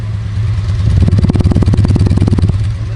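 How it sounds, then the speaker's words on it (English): A 1985 Honda VF700SL Sabre motorcycle engine idles close by, its exhaust thumping in a steady, rapid pulse. "Listen to the exhaust tone on this thing, Kenny."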